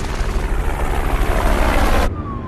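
A helicopter flies near a helipad in an action-movie scene, making a loud, dense rotor roar that holds steady and then cuts off abruptly near the end.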